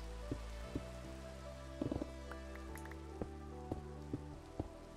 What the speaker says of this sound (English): It must mean I'm right beside the slime chunk if I can hear the rain falling